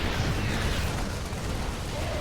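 A siege tank shot explodes in StarCraft II, a Terran versus Protoss match: a continuous, roaring burst of explosive noise, loud and close, sustained through the whole short stretch without a clear separate onset.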